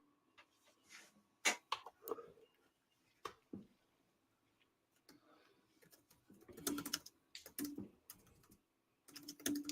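Keys on a computer keyboard clatter in uneven bursts of quick taps with short pauses between, fairly faint and close, during a live chat session, with no voices.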